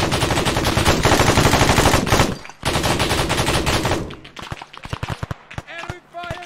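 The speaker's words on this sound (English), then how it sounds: "Enemy fire!" Enemy gunfire in Arma 3 with the Dynamic Bulwarks mod: loud, dense automatic bursts hammer on continuously, break off briefly, then return before thinning into scattered individual shots.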